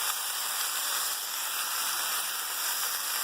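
Mushrooms sizzle in a pan of melted butter, following onions cooked in the same pan, producing a steady, close, dense hiss and crackle that continues without a break.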